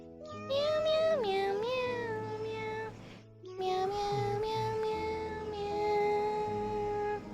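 Long drawn-out meowing calls, close and fairly loud, in two stretches with a brief pause between them, each wavering and sliding in pitch with no talk over them.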